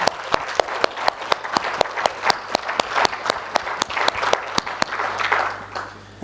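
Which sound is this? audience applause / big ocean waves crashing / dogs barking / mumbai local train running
audience applause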